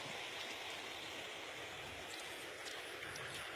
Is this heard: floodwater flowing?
yes